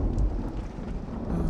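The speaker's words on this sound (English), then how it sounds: "Oh, the storm is a violent one, enough to shake the very foundations of this old place." A violent thunderstorm with rain, used as an audio drama sound effect: a deep, heavy rumble of thunder over a constant rushing rain bed, loud and enveloping, with no voices.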